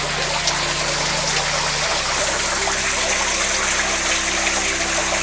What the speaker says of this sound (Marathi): हे जे पाणी वाहत आहे